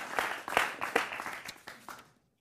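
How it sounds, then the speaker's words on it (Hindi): A studio audience on a Hindi political debate show claps in a short, uneven burst of several strong clusters, fading out after about two seconds into silence. "जोरदार तालियां उनके लिए।"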